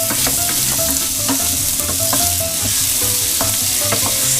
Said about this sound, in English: A nice hot pan. That with some oil or some butter. And that gets to smoking just a little bit. Drop in that venison.